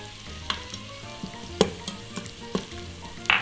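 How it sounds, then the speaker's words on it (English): Onions sizzle in hot oil inside an electric pressure cooker, a soft steady frying hiss broken by sharp, scattered pops and crackles, close up with no talking. "You can hear the sizzling."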